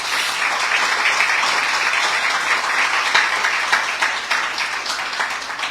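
A church congregation applauding together, a dense, sustained wash of many hands clapping that swells slightly and holds for several seconds.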